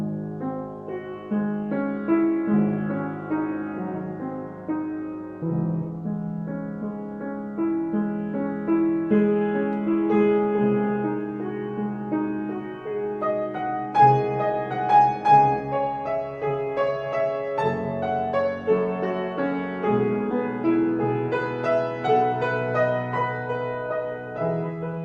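Improvised piano music built on the Moonlight Sonata, with a steady flowing triplet figure and arpeggios spread across different registers, played continuously and fairly loud, alone without talk.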